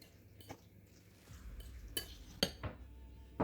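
Canned cod liver being stirred with fish in a bowl, sparse utensil clinks and scrapes against the dish, a few sharper taps, quiet and close with no talk.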